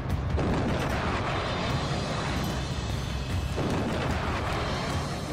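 War explosions and artillery fire, heard as a dense, rumbling wash of distant blasts with a few sharper bursts breaking through a continuous low roar, fairly faint throughout.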